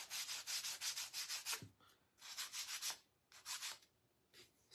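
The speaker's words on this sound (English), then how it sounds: "I'm just sanding just a little bit of this paint off of here." A nail file sands a little paint off a craft piece in short rhythmic bursts of scratchy rubbing, close and clear, with brief pauses between strokes.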